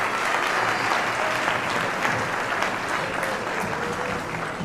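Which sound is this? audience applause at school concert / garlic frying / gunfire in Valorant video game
audience applause at school concert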